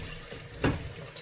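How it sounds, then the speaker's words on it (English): A kitchen water tap runs in a home cooking setting, a steady close hiss of flowing water with a brief louder splash midway through, no speech. "Turn this water off."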